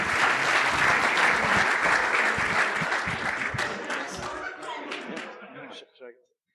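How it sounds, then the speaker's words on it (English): Audience applause for the host of a podcast at a sustainability panel session, dense clapping from a crowd that holds strong, then tapers off and fades to a couple of last claps. "Round of applause for Matt, please."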